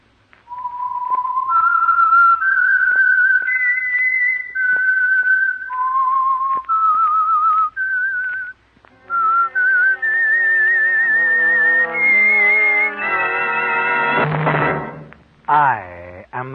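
A clear, close whistled melody rises and falls in sustained notes, then gives way to a sweeping orchestral swell that ends the theme of the Signal Oil radio program The Whistler.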